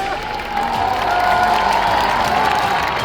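Sustained applause and cheering from a large rally crowd at an outdoor election meeting in Sheohar, Bihar, a steady dense roar of clapping at constant loudness with no pauses.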